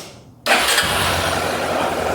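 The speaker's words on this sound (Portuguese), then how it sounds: "Bom, vamos lá, eu vou ligar a moto então." A motorcycle engine catches after a short crank and settles straight into a loud, steady idle, close by with no talk.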